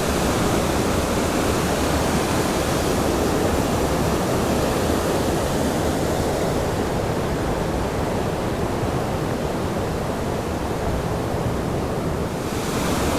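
Big Falls on the Cupsuptic River roars as a steady, dense wash of falling water, loud and continuous throughout with no voices, the rushing texture thinning slightly near the end.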